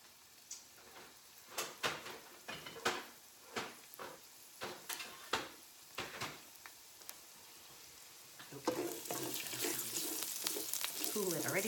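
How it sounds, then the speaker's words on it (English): Ground beef and garlic in a pan, first a series of clinks and stirring knocks, then a bright sizzle that swells and holds steady near the end. "you'll hear it's going to start to sizzle, and that's what we listen for."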